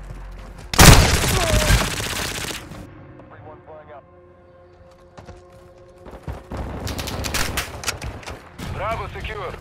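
Heavy video-game gunfire in a multiplayer domination match: a loud burst of rapid automatic shots up front, then scattered single reports and further volleys, with game radio chatter and voices running under the shooting.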